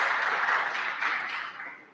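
Applause in a legislative house chamber during a floor session, a steady wash of many hands clapping at moderate volume that fades slightly toward the end, with no voices over it.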